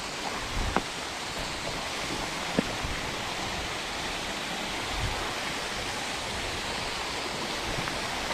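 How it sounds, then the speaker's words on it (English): A waterfall gives a steady, broad rushing roar that holds through the whole stretch, heard from some distance. A few faint knocks sit over it and there is no talk. "I can hear the waterfall guys."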